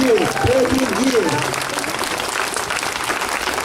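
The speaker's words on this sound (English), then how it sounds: "That deserves a round of applause." A crowd at a Ban Live Export rally in Geelong breaks into sustained applause, a thick wash of clapping that continues evenly while a speaker's voice rises over the start.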